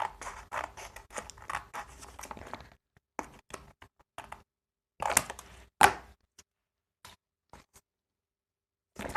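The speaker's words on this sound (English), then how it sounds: "I'm just going to use the scissors." Scissors snipping repeatedly up close, a quick run of cuts followed by slower, scattered snips separated by quiet gaps.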